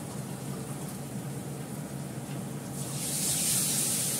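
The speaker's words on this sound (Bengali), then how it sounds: "অল্প করে জল দিলাম" A little water is poured into a pan of fried fish, producing a steady broad hiss that swells louder and brighter toward the end, with no voices.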